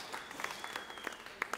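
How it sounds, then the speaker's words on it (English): Audience applause at a live rock concert aboard a cruise ship, a steady wash of clapping with a few sharper claps standing out, moderately distant and fairly quiet throughout. "So a big round of applause for those guys."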